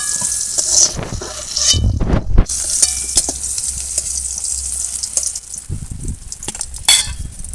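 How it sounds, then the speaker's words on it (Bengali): Eggplant slices sizzle and crackle in hot oil with a steady hiss, punctuated by scraping and clinks of a utensil against the pan. "বেগুনগুলো হালকা করে ভেজে নিয়েছি এবার তুলে নেব"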